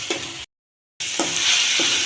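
Onion, garlic and cumin paste frying in oil in a wok gives a close, steady sizzle and hiss, broken by a brief moment of silence, with soft stirring knocks.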